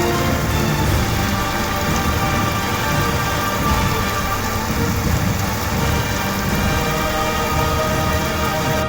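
Heavy rain pours down steadily in Madhya Pradesh, a dense, continuous hiss of drops hitting surfaces with no letup.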